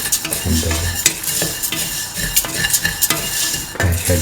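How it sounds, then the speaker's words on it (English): A utensil stirs vermicelli with cardamom and clarified butter in a pan, making close scraping clinks and shuffling over a light sizzle, with no voices. "Thoroughly salt and mix the vermicelli with the cardamom and the"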